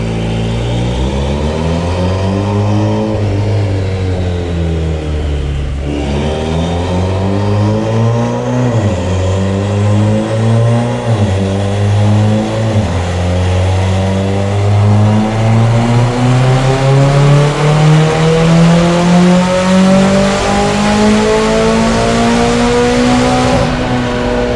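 Turbocharged Mitsubishi Evo X MR on a dyno, engine revving hard through repeated climbing pulls with rising pitch and a brief dip mid-run, loud and close, no talking.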